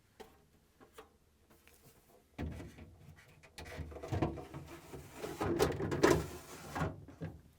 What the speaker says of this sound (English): Next, I'm going to place the deli drawer in.